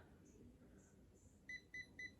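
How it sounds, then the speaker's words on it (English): A Chi Spin n Curl hair curler's timer gives three short, evenly spaced electronic beeps, soft but clear over a quiet room. "And there's the timer already."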